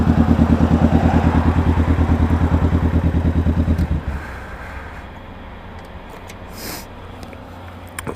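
Kawasaki Vulcan S 650 motorcycle with a Two Brothers exhaust, its deep, rhythmic engine pulse loud and close for about four seconds before dropping away to a faint idle-like hum with light clatter.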